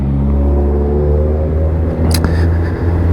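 A WK SXI 125 scooter engine droning steadily while it is ridden, a close, continuous low hum with a brief whooshing rise partway through.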